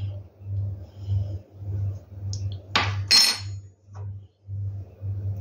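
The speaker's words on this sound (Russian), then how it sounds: "Сначала смешиваем все сухие ингредиенты." Dry ingredients such as soda and cocoa mixed in a bowl for chocolate cupcakes, with a few brief spoon clinks and scrapes over a steady, rhythmic low hum.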